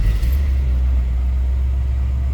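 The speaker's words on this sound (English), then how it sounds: "let's go ahead and start it up" Fuel-injected engine of a 1986 Chevrolet C10 pickup catching and settling into a steady, deep, low rumbling idle, heard close and fairly loud with no talking.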